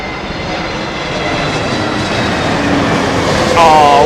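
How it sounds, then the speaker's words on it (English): A British Airways Airbus A320neo airliner at Heathrow produces a steady, broad engine roar that swells gradually and grows louder near the end, heard close by with no talking. "Lewis Webster, BA320 Neo from Toulouse. Here we go."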